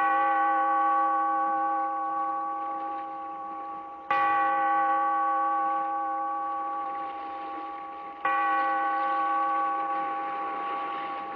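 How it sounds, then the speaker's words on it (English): A deep church bell tolls three times at steady intervals of about four seconds, each strike ringing out loud and rich before slowly fading, with no voices over it. "Bellkeeper, toll the bell"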